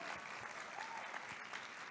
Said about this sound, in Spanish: Le damos un aplauso de bienvenida a estas chicas.